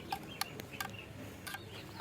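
Young chicks being raised for growth give short, sharp clucks and peeps in a few scattered bursts, close by over a quiet background.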